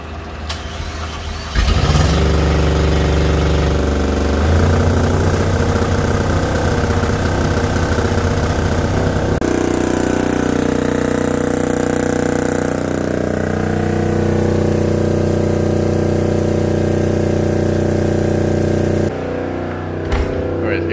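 Fischer Panda marine diesel generator with a faulty throttle actuator running close by, a loud steady droning hum that shifts pitch midway, with a voice talking over it.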